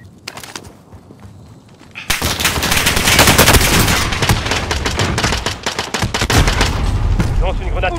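Rapid gunfire and sustained bursts of shooting in Call of Duty: Modern Warfare, loud and dense after a quieter opening with isolated shots, with a voice briefly audible.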